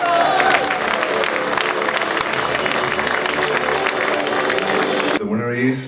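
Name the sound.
audience applause for convention award winner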